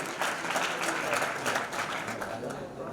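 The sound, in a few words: audience applauding loudly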